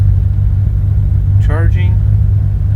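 A 1982 Ferrari 400i V12 with a 5-speed manual idles at about 1,000 rpm, a steady loud low rumble with a brief short voice-like sound in the middle.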